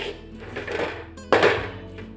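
A spoon stirring and mixing a sesame and date (khajur) mixture in a pan, soft scraping and sticky shuffling followed by one sharper clunk against the metal, close and alone.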